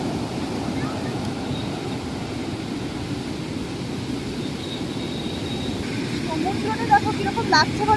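Steady roar of surf and wind across open Anjuna Beach in North Goa, with some faint distant sounds emerging near the end.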